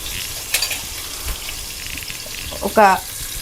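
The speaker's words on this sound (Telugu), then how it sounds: "ఈ ఆనియన్స్ బ్రౌన్ కలర్ వచ్చేదాకా వేగాలండి" Sliced onions and green chillies frying in a pan, a low, steady sizzle with a few stirring clicks and scrapes, and a brief voice near the end.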